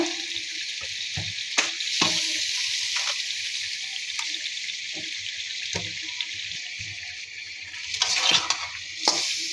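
A pangas fish head sautés in spice paste in a pan: a continuous bright sizzle with intermittent scrapes and knocks of a spoon stirring, close and moderately loud.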